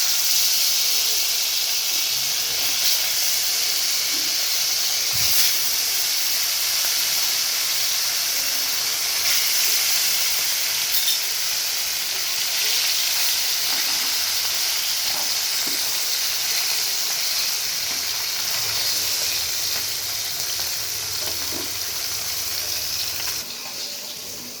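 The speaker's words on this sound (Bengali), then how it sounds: "তাওয়াটা, মাছগুলো ভেজে নিব" Fish frying in hot oil on a tawa gives a loud, continuous hissing sizzle that holds steady for the whole stretch, close up, with faint clatter and no talking.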